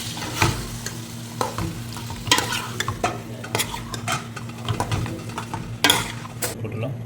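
Chicken and tomato stir-fry in a pot for chicken dum biryani, with a steady sizzle broken by repeated scraping and clattering strokes of a spoon against the pan.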